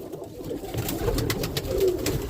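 A roller pigeon coos softly in a loft, low murmuring calls rising and falling under rustling and steady background noise, fairly close but not loud.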